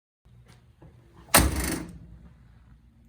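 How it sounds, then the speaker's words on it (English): A 1973 Chevrolet Corvette (C3) door swung shut hard: one loud, close slam followed by a brief rattling buzz that fades over about half a second, with quiet room noise before and after. "It doesn't do it when I shut the door gently, but when you give it a good swing"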